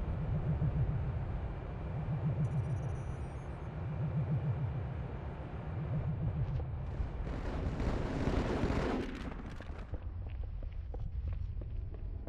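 A bomb drop in the Halo game lands in a broad, heavy rumble that swells near the end into a loud, crackling blast, with steady low battle noise and thuds underneath throughout.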